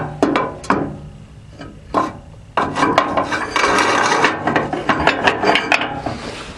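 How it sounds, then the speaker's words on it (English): A metal hand crank is fitted into a bracket on a Massey Harris tractor, giving close scraping, rattling clanks and grinding metal contact in bursts, with no talk. "Let me put the hand crank in."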